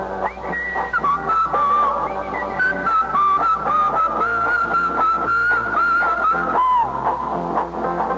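A clear, close whistled melody from a 1967 broadcast wavers up and down continuously over a soft rhythmic backing, steady and fairly loud throughout.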